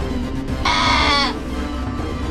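Sheep bleats loudly in one wavering, sustained call over a steady low background hum, as a wolf seizes it from its pen and drags it toward the forest.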